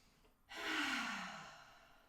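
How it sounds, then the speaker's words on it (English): One deep breath is drawn and then let out fully through the mouth in a yoga relaxation session: a brief faint intake, then a long, soft, airy exhale that swells quickly and fades slowly, heard close and alone. "Inhale deeply and exhale fully with your mouth"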